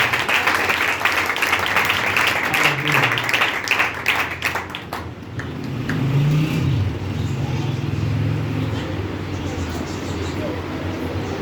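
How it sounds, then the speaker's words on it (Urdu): A church congregation claps loudly after the pastor is honoured. Dense, vigorous clapping fills the first five seconds, then thins into a lower rumbling background with a sustained voice-like tone. "زوردار تالیاں"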